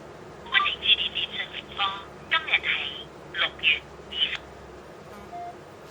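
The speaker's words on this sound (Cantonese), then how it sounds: "電話呢就開始打出㗎啦" A GT08 smartwatch dialing out a phone call over Bluetooth gives a quick, irregular series of short electronic beeps and tones, close and clear, then a single faint tone near the end.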